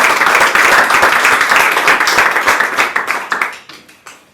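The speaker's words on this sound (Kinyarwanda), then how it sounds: "hanyuma mwese ngo mumvize amashyi" An audience at a birthday celebration claps together in a loud burst of applause that thins out into scattered claps and stops after about four seconds.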